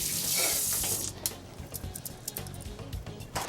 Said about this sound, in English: So, to the sink, and wash my hands.